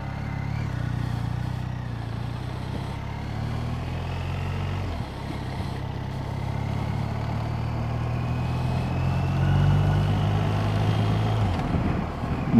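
Motorcycles and cars pass steadily on a road on a busy Saturday, a continuous low engine drone with rising and fading passes, one louder approach near the end.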